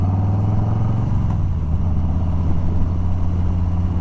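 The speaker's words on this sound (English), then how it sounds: "And yes, the exhaust is loud." A 2021 Harley-Davidson Softail Standard with the 107 engine rumbles through a loud exhaust, a steady deep throb that dips slightly around the one-second mark, sounding close with no talk.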